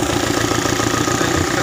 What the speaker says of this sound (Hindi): इसका जो इंजन का आवाज़ है वो भी आपको दिखा देते हैं।